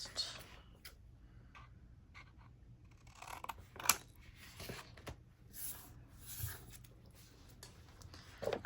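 Scissors snip through paper for a junk journal craft, a handful of short, close, crisp cuts and rustles spread across the stretch, fairly quiet, with paper handling noises in between.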